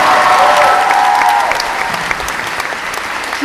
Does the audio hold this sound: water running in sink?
no